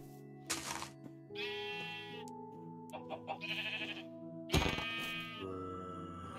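Sheep in the video game Minecraft bleat several times in short, clear, close calls spaced across the moment, with quiet background tones between them.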